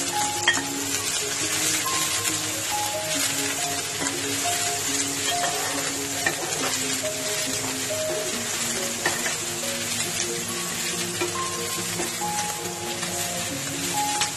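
Boiled chicken and capsicum stir-frying in a pan for chicken gravy noodles, a continuous busy sizzle with scattered crackles and faint clinks, close and without talk.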